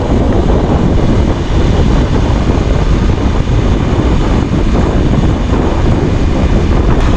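Strong wind in Gumatdang, Itogon, Benguet roars and buffets the microphone in a constant, dense rush with no voices.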